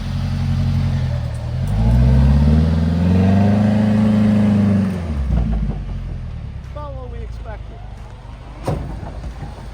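A 4x4 truck in low range and two-wheel drive, rear locker off, strains up a steep hill. Its engine revs up loudly and rises, then eases off, and voices can be heard over the idle that follows.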